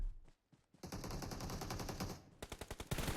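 Automatic gunfire in the online shooter PUBG, a loud sustained burst of rapid shots followed by a few separate single cracks, close and with no talking.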